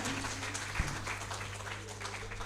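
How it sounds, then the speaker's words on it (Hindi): An audience at a shayari poetry gathering gives steady applause, a continuous patter of many hands clapping at moderate, somewhat subdued volume, with a voice faintly audible underneath. "ये अभी भी तालियां कमज़ोर"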